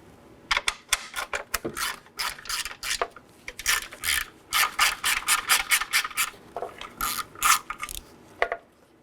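A ratchet with a 10mm socket works a nut loose on a 2018-2024 Chevrolet Equinox under the hood, giving a quick series of close, rhythmic rasping clicks in uneven bursts with brief pauses.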